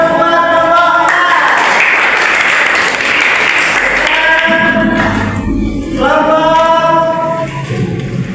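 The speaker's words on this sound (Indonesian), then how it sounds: "kita beri aplaus buat kelompok A" Loud applause from a classroom audience for group A, steady clapping that swells and then fades, with voices calling out over it.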